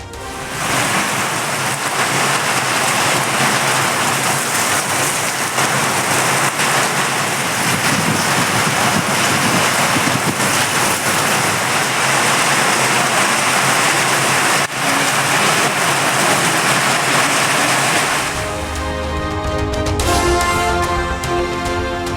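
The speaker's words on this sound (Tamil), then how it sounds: "தமிழ்நாட்டின் பல்வேறு மாவட்டங்களில் இரவு கனமழை." Heavy night rain pours across districts of Tamil Nadu, a dense, steady roar of downpour lasting most of the stretch before cutting off abruptly into a different, quieter sound near the end.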